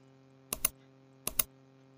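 Keystrokes on a computer keyboard running Windows 10: two quick double-click bursts of keys about three-quarters of a second apart, close and crisp over a faint steady hum.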